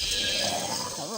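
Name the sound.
sheep bleating in the video game Craft The World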